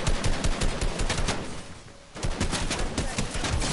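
Rapid automatic gunfire from an AR rifle in a shooter video game, loud and close, with dense bursts, a brief pause, then more sustained firing.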